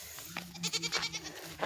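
A female goat bleats in short, close calls, several brief cries in quick succession at moderate loudness with no talking.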